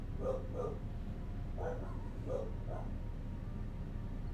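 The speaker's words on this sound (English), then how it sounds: "Bark, bark." A dog barks in the video game Tales of Arise, giving several short, quiet yips in two pairs over a low background hum.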